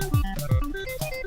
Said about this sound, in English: this is a nice typical synthesizer sound